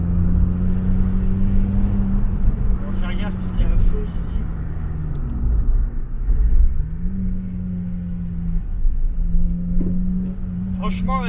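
A Japanese sports car drives along mountain roads, its engine a steady close rumble with shifting pitch as it accelerates and eases off, under ongoing talk inside the cabin.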